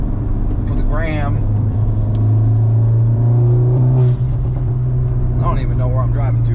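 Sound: MK8 Golf R exhaust with DBV2 4-inch downpipe, revving

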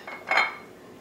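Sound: salad bowl being handled, dishes clinking

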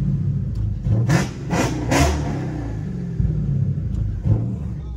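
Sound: Dodge SRT 392 engine revving and shooting flames

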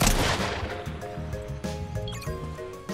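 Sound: shotgun fire in the video game Fortnite

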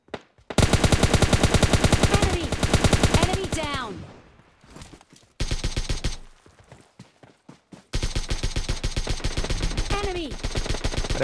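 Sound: sniper and gunfire in the video game PUBG Lite

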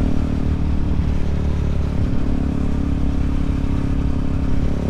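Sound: motorcycle exhaust roaring, deep bass sound

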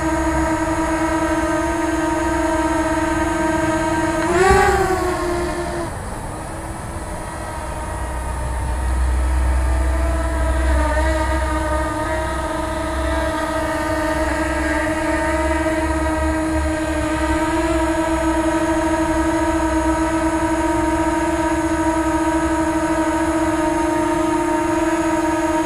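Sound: DJI Spark drone with low noise propellers taking off

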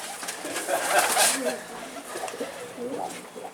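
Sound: pigeon cooing

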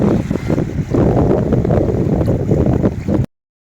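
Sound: strong wind

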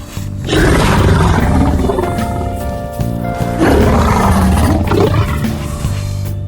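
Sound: creature roaring in ARK Survival Evolved video game, Paranoia mod

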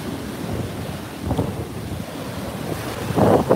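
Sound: Pacific Ocean waves breaking on the beach with wind

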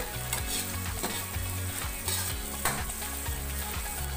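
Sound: stirring ginger as it fries in a pan

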